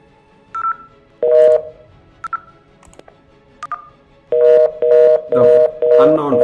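Simulated VoIP phones in Cisco Packet Tracer give short DTMF keypad beeps, then a run of steady ringback tones repeating in even bursts, loud and close, with someone talking between them.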